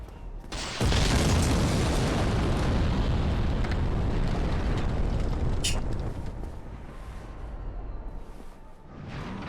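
A loud, deep explosion from an exploding enemy in Dark Souls goes off near the start and rumbles on as a sustained roar for several seconds before slowly fading.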